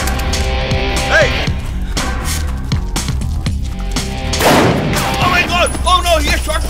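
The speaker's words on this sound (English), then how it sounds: "Oh no, he has shot me!" Gunfire in an English-dubbed action film scene: several sharp shots and a burst crack out over a dense, loud soundtrack of music and effects, with someone shouting amid the chaos.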